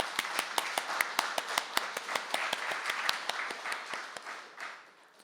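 A church congregation at an early-morning service claps in unison, a steady rhythm of sharp claps that speeds up into looser applause before fading out after about five seconds.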